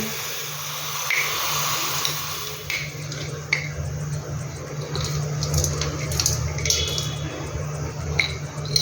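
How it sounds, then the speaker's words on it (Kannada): Water poured from close range onto organic jaggery in a kadai makes a steady splashing trickle lasting several seconds, with a few soft clinks and a low background hum underneath. "ಇದಕ್ಕೆ ಸ್ವಲ್ಪ ನೀರು ಹಾಕ್ತಾ ಇದ್ದೇನೆ"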